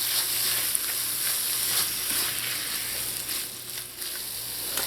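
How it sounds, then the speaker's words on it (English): Crab meat tossed and stirred through a thickening curry sauce in a hot pan, a close, steady bubbling sizzle broken by soft stirring scrapes, with no talking. "You're just going to toss that crab meat in that curry sauce."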